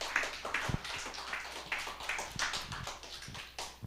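Church congregation applauding to welcome a teacher to the front for a Sunday service presentation, a steady patter of many hands clapping at moderate distance, fairly soft and continuous throughout.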